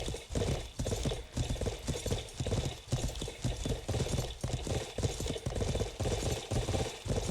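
Steady clip-clop of horse hooves in the video game Life is Feudal, a continuous rhythmic trotting beat, loud and close throughout.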